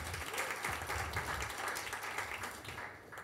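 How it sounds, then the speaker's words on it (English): An audience at a marketers' evening event in Nairobi gives a keynote speaker a round of applause, with steady crowd clapping that sounds somewhat distant and lasts about three seconds before thinning at the end. "A clap for him"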